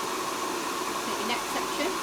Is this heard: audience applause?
no